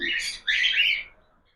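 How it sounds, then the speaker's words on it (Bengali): Two quick, harsh chirps from young cockatiel chicks, close and fairly soft, then quiet. "এই যে ককটেল পাখির যে বাচ্চাগুলো ফুটেছে"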